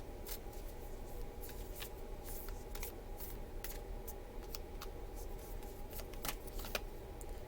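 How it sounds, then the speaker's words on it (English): Playing cards being shuffled during a tarot-style reading, a steady run of soft riffling and sharp snapping bursts close by, repeating throughout with a low background hum and no talk. "There's a lot of shuffling going on."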